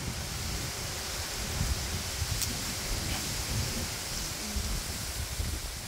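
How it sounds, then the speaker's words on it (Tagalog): Strong wind rushes through garden plants outdoors, a steady loud hiss and rustle of leaves filling the whole stretch with no talking over it. "ang lakas ng hangin dito."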